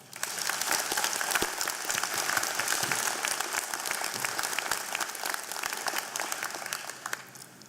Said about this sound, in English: please, a round of applause for our family, friends, and everyone who has helped us get here